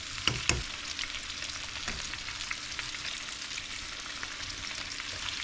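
Pork chops fry in butter in two pans, a steady broadband sizzle with a few sharp spatters and crackles near the start, close and continuous with no talk.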